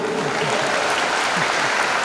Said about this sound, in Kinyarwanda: koma amashyi yemwe.